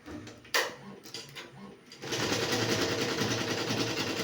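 An embroidery machine stitching a design on practice cloth whirs into a steady, fast mechanical hum after a few quiet clicks and a single sharp knock.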